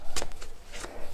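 A Rider-Waite tarot deck is shuffled close up, giving a few quick riffling bursts of card noise in a little over a second.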